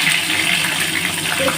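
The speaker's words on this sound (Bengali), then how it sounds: "কড়াতে তেল গরম হয়ে গেছে, গোটা জিরে দিয়ে দিলাম, শুকনো লঙ্কা" Whole cumin seeds and dried red chillies hitting hot oil in a kadai, giving a loud, continuous hissing sizzle, close and steady with no talking.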